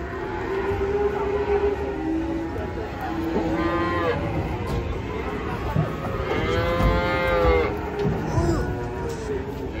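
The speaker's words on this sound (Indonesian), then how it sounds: "Wah, ada sapi ngamuk lagi di Pasar Pon Ambarawa" A raging cow moos loudly several times amid a busy outdoor crowd at Pasar Pon Ambarawa cattle market, its bellows rising and falling over background chatter and livestock noise.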